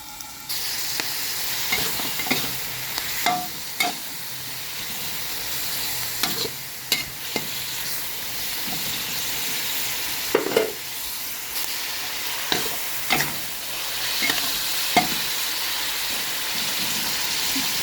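Chinese kale with salted fish stir-fries in a pan, a steady sizzle broken by repeated scraping clinks of a spatula, close and alone with no talking.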